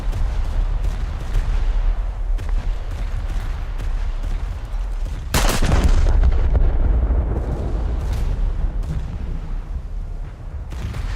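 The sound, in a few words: naval gunfire in a video game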